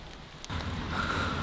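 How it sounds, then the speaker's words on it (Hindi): Rain falls in a dense forest jungle in Kodaikanal, a soft steady hiss that swells after a brief rustle, faint and continuous without speech. "आज तो जो धूप भी नहीं है, बारिश आ रही है।"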